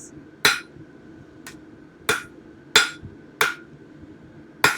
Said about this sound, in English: So we'll hammer it on all four sides so we can get some nice right angles going